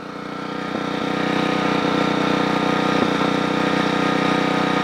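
A Generac 8838-0 generator engine runs steadily at close range, its continuous hum broken by a few sharp pops or misfires scattered through the run.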